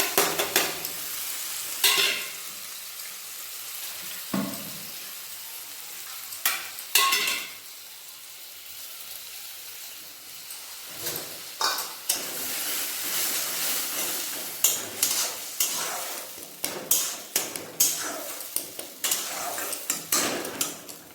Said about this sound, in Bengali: ভালোভাবে ভেজে নেব, কারণ সিমটা সেভাবে সিদ্ধ করা হয়নি তো